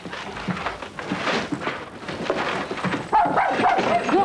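A dog in a French film scene barks and yips in short bursts over a busy room-tone background, fairly close and loud, with the sound growing sharper near the end.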